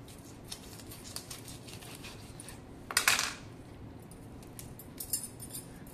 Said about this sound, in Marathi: त्याच्यानंतर आपण याचा तोंडाकडचा भाग कापून घ्यायचा असा.